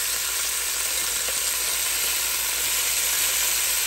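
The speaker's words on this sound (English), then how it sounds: "the bacon is in here cooking also" Bacon and chicken legs fry in a pan, giving a steady, loud, even sizzle with no talk over it.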